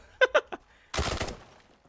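Video game gunfire from Thunder Tier One: a few sharp short bursts, then a denser rattling volley of shots that fades out, moderately loud with no speech.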